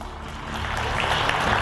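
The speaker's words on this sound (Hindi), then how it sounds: "तालियों की गड़गड़ाहट के साथ हम स्वागत करना चाहेंगे योग गुरु बाबा रामदेव जी का।" A large audience at an International Day of Yoga event gives steady, thunderous applause to welcome yoga guru Baba Ramdev. The continuous wash of clapping swells slightly louder as it goes on, with no talk over it.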